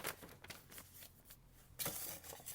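Paper requisition form for a salivary hormone test being folded up, a few dry crinkling and creasing rustles close by, with a brief louder crackle near the end.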